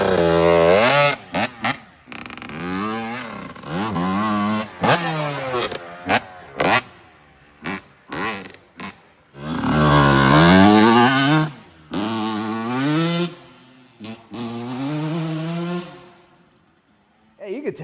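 Honda CR 125 two-stroke dirt bike ridden on a track, its high-pitched engine revving up and down in repeated loud, rising and falling bursts with brief gaps between shifts, close to the listener.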